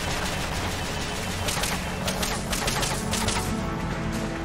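Dense, rapid gunfire in Metal Gear Solid: Peace Walker, a steady crackling stream of shots at moderate volume with no talking.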